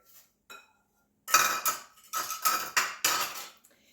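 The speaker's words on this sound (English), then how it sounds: "I'm going to just whisk all of this together" Whisk clattering against a bowl while beating eggs and sugar for brioche bread pudding: a few faint taps, then a run of loud, close, rhythmic metallic strokes.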